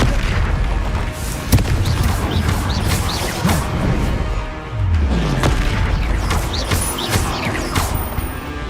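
Confringo fire-spell blasts in the game Hogwarts Legacy: repeated loud, deep booms and crashing impacts in quick succession over dense battle noise, close and forceful, with no clear talk.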